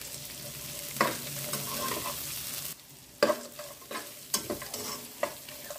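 Onions and green chillies frying in a pan for chicken biryani, a steady sizzle broken by a brief pause and several sharp scrapes and stirs of a spoon.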